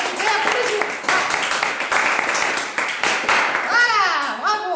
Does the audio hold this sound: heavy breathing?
no